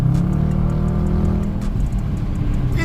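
An Infiniti car engine drones loudly nearby at night, its low growl rising and falling as it revs, with faint ticking noises over it.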